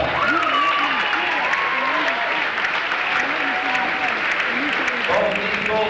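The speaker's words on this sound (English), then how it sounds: "And give yourself a round of applause." Fans at a high school wrestling meet between Del Oro and Rocklin applaud in a gym, a steady wash of clapping with voices and shouts rising throughout the crowd.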